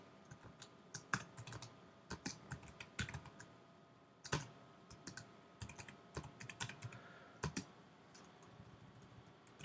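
Quiet keyboard typing as Swift code is written, with irregular bursts of close key clicks separated by short pauses.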